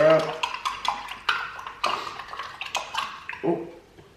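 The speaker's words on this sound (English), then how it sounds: "Stir her up without spilling it everywhere." A spoon clinks rapidly against a glass while Metamucil powder drink is stirred, a close, bright rhythmic rattle of taps that keeps going for several seconds.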